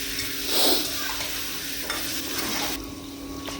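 Dried loitta fish, Bombay duck, fries in hot oil, a constant close sizzle with a brief louder burst of spattering and some stirring.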